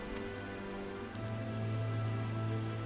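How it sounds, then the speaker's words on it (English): Rain shower ambience in Final Fantasy XIV, a faint, steady patter of rain beneath sustained low tonal music that shifts pitch midway. "The star shadow shower has stopped and been replaced by a rain shower."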